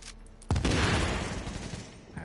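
A loud shotgun blast in a video game fires sharply, then a long booming roar and rumble that slowly fades over about two seconds.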